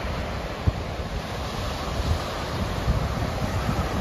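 Sea waves washing onto the beach at Porth, Newquay, Cornwall, a steady broad surf roar mixed with wind buffeting the microphone, with a few soft thumps, continuous and without talk.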